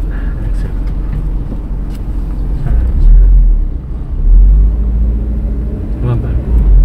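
A car engine revs up under the accelerator during Korean driving test course practice, a loud low rumble that swells twice from inside the cabin, with an instructor speaking briefly over it.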